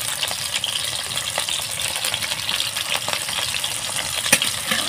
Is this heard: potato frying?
yes